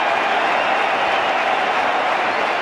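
Large cricket crowd at a 1996 World Cup match between Australia and Sri Lanka applauding wicketkeeper Kaluwitharana, a dense, steady wash of clapping and crowd noise throughout.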